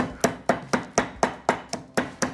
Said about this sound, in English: I will put directly to the mortar to crush it